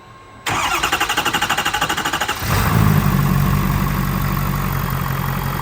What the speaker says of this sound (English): we are going to start the engine any second